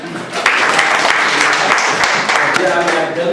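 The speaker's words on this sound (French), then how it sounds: "Maintenant, merci d'applaudir." Audience applause at an entrepreneurship training session, starting abruptly and holding dense and loud for about three seconds; a voice can be heard alongside it.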